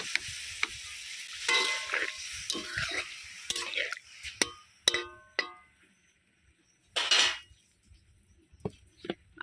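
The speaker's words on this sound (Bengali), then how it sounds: "এবারে আমি দিয়ে দেবো পরিমাণ মতো জল।" Water is poured into a pan of fried ridge gourd with poppy seeds. Soft utensil clinks and stirring are broken by a few short, close bursts of sizzling, and quiet gaps fall between them.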